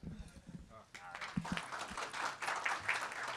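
Applause from a conference audience at a mid-afternoon cybersecurity session on managed detection and response, swelling after a second of murmur into a steady, moderately loud wash of clapping.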